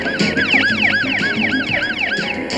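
Ambulance siren wailing in repeating rising-and-falling sweeps, loud and close as the vehicle approaches, steady throughout with road noise beneath.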